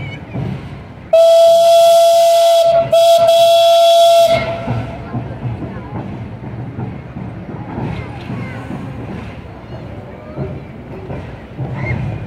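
A steam locomotive whistle blows loud and close in a long sustained tone, cut by two brief breaks, then drops away to the rumble of a crowd at a railway anniversary gathering.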